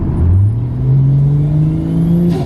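A Ford Falcon XR6 Turbo, blower valve blocked off, revs up in one steady rising pull that holds near the top before dropping, loud and close with no talking.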